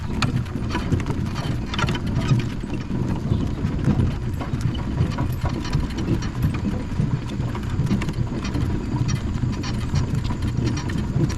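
A single horse walking while pulling a driver, steady clip-clop hoofbeats close by on a noisy outdoor background with rustling, no talk.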